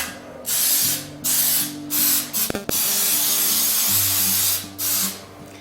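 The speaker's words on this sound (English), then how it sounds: "I'm going to spray it." An aerosol can of baking spray with flour sprays in a series of short hissing bursts, close up, with a brief rattle between sprays and a faint hum underneath.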